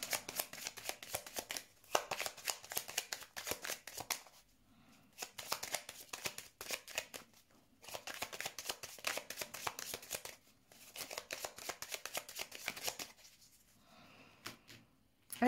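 Tarot cards are shuffled by hand before a reading, with repeated crisp riffling and flicking bursts broken by brief pauses, quiet and close, with no talking.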